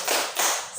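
A class claps together in a rhythmic spirit clap led by a teacher, two bursts of crisp, near claps forming a quick pattern with no talk over them.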